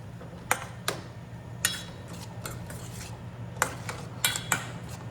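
Konda kadalai sundal being stirred in a pan, a metal spoon scraping and clinking against the pan in a handful of sharp, irregular taps over a steady low hum.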